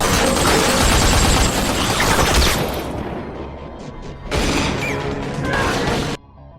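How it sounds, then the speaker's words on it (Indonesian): Dense bursts of film gunfire crackle and crash in rapid volleys, pausing briefly before another loud barrage, then cutting to silence. "Baku tembak pun terjadi."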